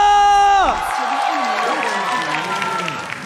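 Arena crowd at a Mobile Legends esports match between EVOS Legends and Bigetron Alpha, cheering and clapping under a commentator's voice after a musical sting cuts off.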